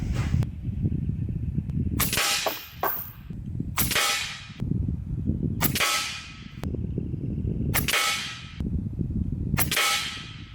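Six sharp shots from an Umarex Gauntlet 2 SL30 big-bore side-lever PCP air rifle, fired at a steady pace about every two seconds, each a loud crack with a quick decaying ring, close by and clear.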